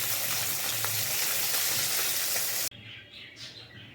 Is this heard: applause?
no